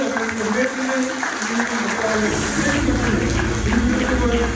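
An audience claps for two guests of honour at a gathering, a continuous wash of hand claps running under a voice, with some low rumble entering midway.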